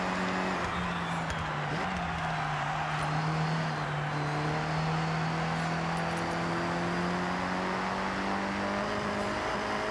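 A 1990 Nissan Pulsar GTI-R racing a short circuit in Forza Horizon: a steady engine drone at constant high revs with shifting pitch, surrounded by dense road and race noise throughout.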